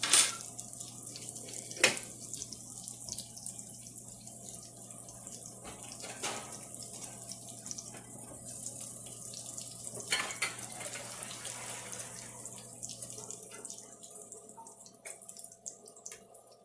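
Cooked potatoes being drained in a kitchen sink, with a soft continuous rush and patter of water and faint clunks of the pot, fairly quiet and without talk.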